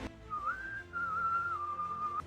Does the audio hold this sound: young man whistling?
yes